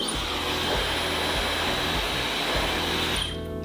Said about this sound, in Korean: 뿌리 쪽에 드라이기 열을 주는 겁니다